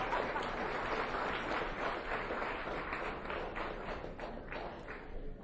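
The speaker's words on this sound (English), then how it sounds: "Give her another round of applause." An audience at a street pitch event claps for a presenter, a continuous round of applause with distinct individual claps audible, holding steady at moderate loudness.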